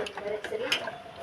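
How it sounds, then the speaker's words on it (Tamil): A spoon scraping and clinking against a pot while thick kammangool porridge is stirred, several light irregular taps and scrapes up close over a low cooking hiss. "நம்ம வந்து கிளறி விட்டுக்கிட்டே இருக்கணும்"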